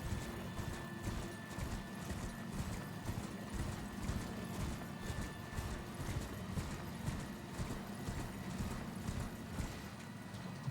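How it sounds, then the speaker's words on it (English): A horse in the video game Elden Ring trots with steady repeated clip-clopping hoofbeats, close and even throughout, with a hint of neighing and no voices over it. "Oh my god, that horse scared me."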